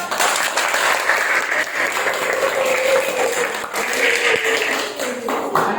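Students in a classroom clap together in a sustained round of applause, a busy patter of many hands, fairly close and even from start to finish.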